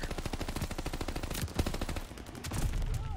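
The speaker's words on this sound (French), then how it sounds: "Oh, le fusil à pompe de Seymour" Rapid gunfire rattles in a Call of Duty Vanguard multiplayer match, a fast, steady stream of close, loud shots with a few heavier blasts mixed in across a few seconds.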